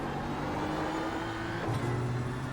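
BMW M4 GT3 race car engine in iRacing at the Nordschleife, a steady close drone with a rising pitch as the throttle opens, then a shift in tone near the end, with no voices.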